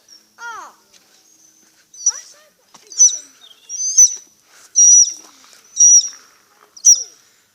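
A talking bird in an aviary among many captive birds gives a series of loud, clear calls and speech-like utterances, about six close bursts in a row with faint chatter between.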